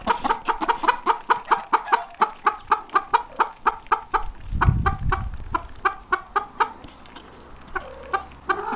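Chickens clucking outdoors in a steady run of close, rhythmic clucks, about two or three per second, with a brief low rumble midway and a few scattered clucks toward the end.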